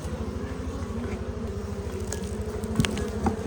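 Honey bees buzz around an opened beehive, a dense close-up hum with pulsing rhythm and individual bees droning past the microphone, steady and moderately loud with a couple of brief louder passes.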